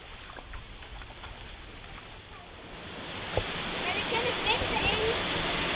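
Rushing water of a stream in Vietnam grows steadily louder, a broad continuous hiss of flowing water close by, with a few faint clicks and knocks mixed in.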